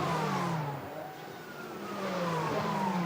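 A Ferrari 296 Challenge race car's engine sounds from a circuit, a loud continuous drone that rises and falls as it passes, with the pitch sweeping down and then climbing again.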